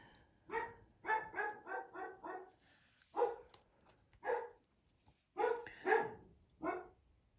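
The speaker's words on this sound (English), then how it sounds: "I never know what he's barking at." A dog barks in a series of short, sharp barks, some in quick runs of four or five and others single, fairly close indoors with quiet pauses between.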